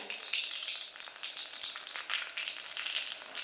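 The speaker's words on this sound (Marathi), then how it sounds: "सगळी मोहरी एकत्र अशी छान तडतडायला पाहिजे" Dense, rapid crackling and popping of mustard seeds spluttering in hot oil for a tempering, close up and continuous, with no voices.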